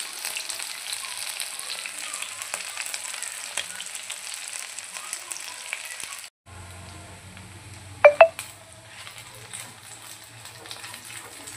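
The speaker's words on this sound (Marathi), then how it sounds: "आपण याला शॉर्ट फ्राय करून घेणार आहोत। छान असे गोल्डन कलरचे आपल्याला हे होऊ द्यायचे आहे।" Soya chunks shallow frying in oil until golden give a steady, fairly quiet sizzle with a brief pause partway, then a few sharp clinks as they are stirred in the pan.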